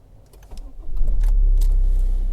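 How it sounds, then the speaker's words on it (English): A Honda CR-V fifth generation is started: a brief click and starter whir, then the engine catches with a low rumble and settles into a steady idle. "Let's turn on the car."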